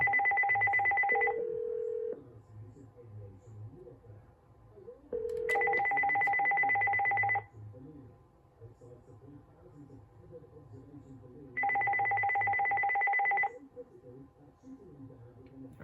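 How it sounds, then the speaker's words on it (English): A Uniden CEZAI2998 desktop cordless phone rings in three separate electronic trilling bursts spaced a few seconds apart, with quiet room noise in between. "I'm going to let the phone ring, and we'll test the answering system."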